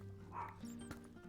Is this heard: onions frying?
no